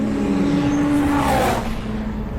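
A front-wheel-drive VW drag racing car passes close on the strip at Santa Pod, its engine roaring loud with a rising then falling whine as it sweeps by and fades slightly.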